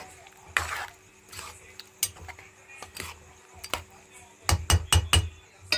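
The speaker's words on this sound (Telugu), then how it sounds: "ధనియా జీరా పౌడర్ వేసేసుకొని మొత్తం అయితే కలిపేసుకుందాం బాగా కలిపేసేసుకోవాలి" A spoon scrapes and clanks against a pot as coriander-cumin powder is stirred into chicken curry. The clinks come in irregular knocks and end in a quick run of sharp taps, under quiet talk.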